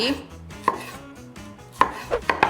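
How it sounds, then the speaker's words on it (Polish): A knife cuts strawberries into halves and quarters on a cutting board, giving a handful of sharp, irregular taps up close. No one speaks. "Takie mniejsze truskawki przekrajam na na połówki, ćwiartki"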